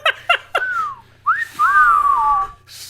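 People whistle: a few quick, sharp chirps followed by longer gliding whistles that slide up and then down in pitch, fairly loud and close, with no speech over them.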